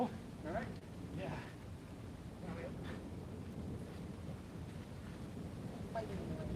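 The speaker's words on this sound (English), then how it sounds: "The storm is there again." Thunderstorm with rain and wind in a sword-fighting game, a constant rushing wash of wind and rain with intermittent rumbling bursts, while voices occasionally cut in.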